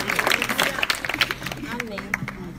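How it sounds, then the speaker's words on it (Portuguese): A church congregation claps together in a lively, uneven burst of applause, with dense overlapping hand claps rising and falling across the room and voices faintly mixed in. "E as palmas para o Senhor Jesus."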